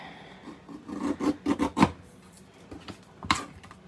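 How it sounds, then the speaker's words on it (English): Small paper trimmer slicing card stock for a handmade card, a series of short close scraping rasps in quick succession, then a pause and one more cut. "I'm just gonna quickly take my little trimmer here and just even that up a little bit"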